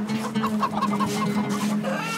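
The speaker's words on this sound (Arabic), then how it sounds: "ده فراخ بتاكل العرس نفسها." Chickens clucking steadily and fairly close, a busy run of short overlapping clucks lasting a couple of seconds with no talk.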